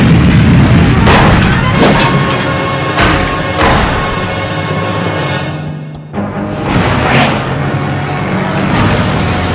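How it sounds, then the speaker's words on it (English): A cartoon ejector seat fires with loud booming blasts, several heavy bursts one after another, then a short pause and a final rushing burst. "I'll use the ejector seat that Harrisburg gave me."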